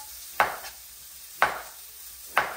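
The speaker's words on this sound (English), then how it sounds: "Today I'm going to leave the skin on the cucumbers, so we're just going to do a nice rough chop." A knife rough-chops a cucumber with its skin on, giving three separate crisp cuts onto a board about a second apart, close and clear against a quiet kitchen hum.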